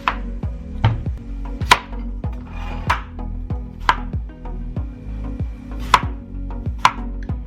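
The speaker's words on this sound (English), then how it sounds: "next we'll do our cucumber" Steady knife chops through cucumber on a board: crisp, close taps fall in a quick, fairly even rhythm, about two to three strikes per second, with a few sharper louder hits and no talking.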